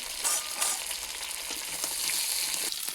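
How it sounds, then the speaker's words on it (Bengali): Pieces of pointed gourd (potol), salted and sprinkled with turmeric, fry in hot oil in a pan, giving a steady close sizzle with faint crackles and a few light stirring knocks. "এবারে পটলগুলো লাল লাল করে ভেজে নেব।"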